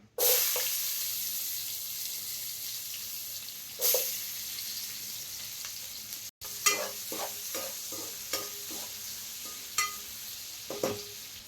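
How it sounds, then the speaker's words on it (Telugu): Onions frying in hot oil left over from frying eggs, a steady sizzle with repeated stirring scrapes and clicks from the pan, close and fairly loud, with no voices. "నూనె వేడైంది కదా, అదే నూనెలో ఆనియన్ వేసుకుందాం."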